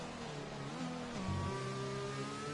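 A McLaren race car on a lap in a sim racing game, its engine droning steadily with gear-shift drops in pitch partway through, followed by a held higher note, fairly quiet and without talk.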